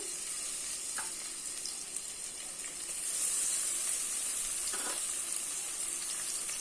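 Sliced onions frying in hot oil produce a soft, even hiss and sizzle throughout, with a couple of brief stirring scrapes and a slight rise in intensity midway; no speech.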